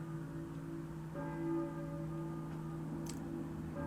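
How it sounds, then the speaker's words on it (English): A church bell rings in the Silent Hill video game, its steady metallic tones sustained and fairly quiet over a low ambient hum, with no voices. "Yeah, somebody's ringing a church bell."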